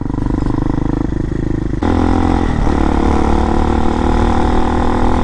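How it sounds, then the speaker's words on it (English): A loud fuel-injected 2019 RPS Hawk DLX 250 motorcycle engine runs steadily close by, its throaty exhaust rising in pitch partway through as the throttle opens, with some mechanical clatter. "Exhaust is pretty loud."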